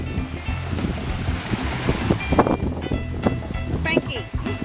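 A waterfall in North Carolina, a dense, continuous rush of falling water filling the scene loudly, with wind buffeting and people talking over it.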